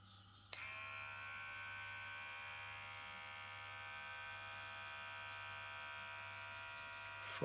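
A Pritech PR 2593C electric hair clipper switches on with a click and then buzzes steadily at high speed for several seconds. A low mains-like hum sits underneath, and the clipper runs alone without talk.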